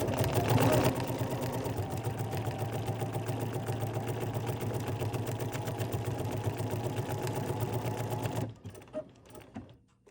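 A BERNINA sewing machine runs steadily on decorative stitches, a loud, continuous mechanical whir with a fast rhythmic needle beat for about eight seconds before stopping, followed by faint handling clicks.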